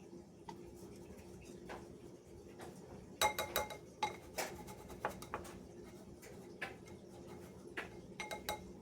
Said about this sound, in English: you might have to use a spatula or a small glass to break up any clumps